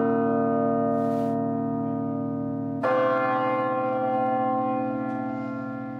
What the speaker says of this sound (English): So play the lowest C. That's my favorite bell.